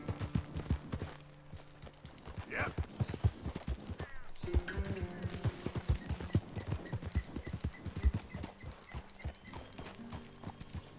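Horse hooves clip-clopping at a steady walk in Red Dead Redemption 2 on rough cliffside terrain, close and fairly loud, with a brief whinny and game ambience underneath and no talking.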